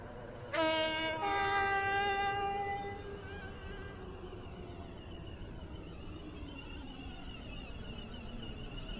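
A Class 377 train at Stepford Central station in a video game sounds a loud horn with two blasts, then moves through the platform as a steady, quieter rail rumble.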